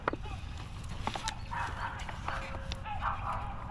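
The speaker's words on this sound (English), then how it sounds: "Can hear the ever-friendly neighborhood dogs." Neighborhood dogs bark repeatedly at a moderate distance, with several sharp woofs in an uneven rhythm over a low background rumble.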